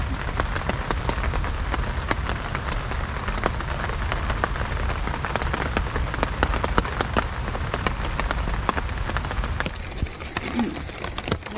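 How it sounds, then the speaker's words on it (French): Rain pours steadily onto a camp tarp by the Chochocouane River, a dense, close patter with sharper individual drops tapping throughout, continuous for over ten seconds with no one speaking. "J'ai annoncé de la pluie à matin, fait qu'on l'a."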